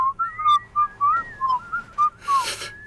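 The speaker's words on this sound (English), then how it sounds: "You sound less like musical whistling and more like an actual whistle." A person whistles a short, wavering run of bright notes, close and fairly loud, with a brief breathy hiss near the end.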